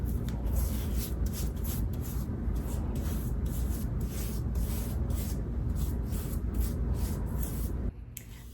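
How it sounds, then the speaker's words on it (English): Nonstick cooking spray hisses onto a glass casserole dish in a home kitchen, a steady close spray that keeps going for several seconds in short pulses and then cuts off near the end. "at this point, you're just gonna wanna spray your pan."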